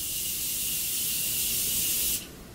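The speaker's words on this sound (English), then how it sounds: "So last thing I want to do is apply some setting spray." A steady airy hiss of a makeup setting spray mist runs continuously for about two seconds, then cuts off abruptly, leaving quiet room tone.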